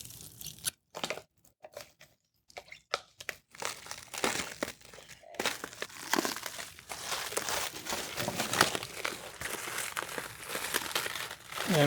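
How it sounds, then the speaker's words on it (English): Plastic wrapping is peeled and crinkled off a newly unboxed Bonny Doon Mark III electric press, with irregular crackling tears and rustles, close up and sparse at first, then busier. "Next, we'll take all the plastic off."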